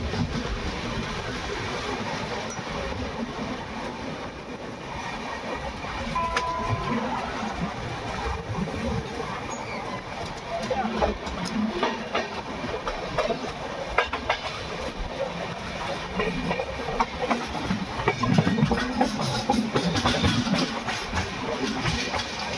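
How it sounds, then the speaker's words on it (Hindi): The Lucknow Double Decker Express rolls steadily onward after leaving Bareilly Junction, a continuous rumble of wheels on rail with rhythmic clickety-clack heard from inside the coach, building slightly louder later on. "तो ट्रेन हमारी 2 मिनट के हॉल्ट के बाद निकल चुकी है बरेली जंक्शन से मुरादाबाद की"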